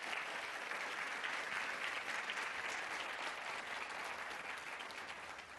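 Church congregation giving a strong round of applause, a steady, even wash of many hands clapping that fills the whole stretch, faint and distant, with no talk over it.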